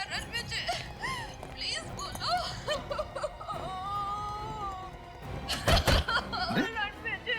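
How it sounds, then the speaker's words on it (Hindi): Crying and wailing inside a house, with moaning, whimpering cries mixed with people talking and background noise, moderately near. "अरे रोने की आवाज आ रही है।"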